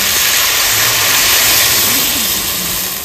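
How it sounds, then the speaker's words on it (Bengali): Water is poured into a hot pan of sautéed ash gourd and potato, producing a loud, continuous sizzling hiss that fills the whole moment and eases slightly at the end. "এবার জল দিয়ে দেবো।"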